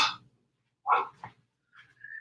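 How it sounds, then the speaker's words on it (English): A dog gives a couple of short, close barks and yips at home, separated by silence, with a faint higher whine at the end. "she's gonna go out there. She's gonna bark."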